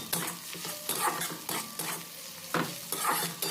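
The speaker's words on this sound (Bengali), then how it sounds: "আদা রসুনটা পেঁয়াজের সঙ্গে একসঙ্গে নাড়াচাড়া করে হালকা ভেজে নিতে হবে" Ginger-garlic paste and onion frying in a pan, stirred with a utensil, for a cauliflower and potato curry: a steady close sizzle broken by repeated scraping stir strokes, with no talking.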